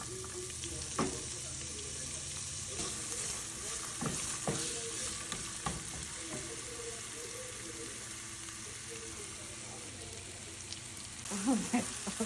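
Potatoes frying in a pan for sabudana khichdi, a steady close sizzle broken by scraping and stirring knocks of a spatula, with a burst of clattering stirring at the end.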